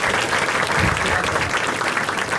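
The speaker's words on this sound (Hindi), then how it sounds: "एक बार ताली वाला जीनल के लिए" Audience at a stand-up comedy crowd-work show bursts into loud, dense applause for an audience member named Jinal, sustained clapping filling the room throughout.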